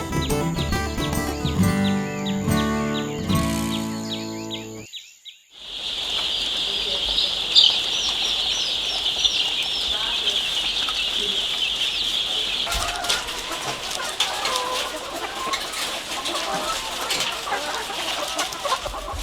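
Laying hens on a poultry farm cluck and chatter as a dense flock, with occasional wing flaps and bird chirps carrying on steadily for most of the clip. Music plays in the opening seconds.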